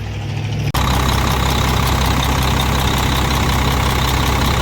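A truck's ISM diesel engine idles after a water pump replacement, starting with a sharp jump in volume and then holding a loud, steady rumble close by, with nobody talking.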